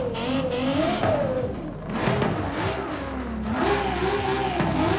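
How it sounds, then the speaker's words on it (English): Lexus LFA V10 swapped into a car in Forza Horizon 5, revving hard in rising and falling sweeps, loud and close, with a brief dip between pulls. "This is the V10 from the Lexus LFA,"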